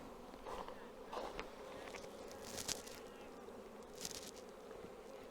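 A steady, close drone of many honeybees buzzing together at a hive, continuous and dense with small swells in loudness.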